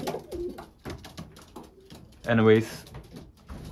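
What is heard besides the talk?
racing pigeons cooing in loft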